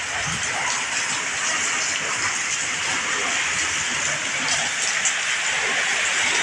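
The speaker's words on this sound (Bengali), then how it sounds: "প্রচণ্ড হারে বৃষ্টি" Heavy rain from Cyclone Remal pounding down around a flooding house, a loud, steady, unbroken hiss and patter close by, with no talk.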